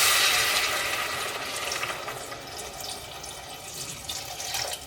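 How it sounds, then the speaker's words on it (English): A rushing splash of water pouring into a pot, loudest at the start and settling into a steady bubbling wash, close by with no voices. "Add water."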